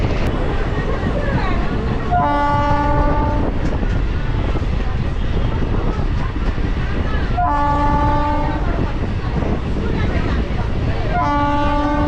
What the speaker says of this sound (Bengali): ব্যারাকপুর থেকে ট্রেন ছেড়ে দিল।